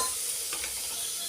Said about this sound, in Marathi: हे 1 टमाटर, आणि हे कोथिंबीर, हे सगळं टाकून देते मी त्याच्यात. ते पण फ्राय होऊन घे थोडंसं तेलामध्ये.